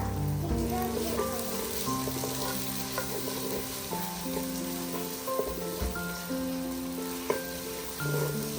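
Country chicken fries in a pan for nati kodi curry with dried and green chillies, giving a steady loud sizzle with crackling pops and occasional stirring scrapes, with a voice talking faintly underneath.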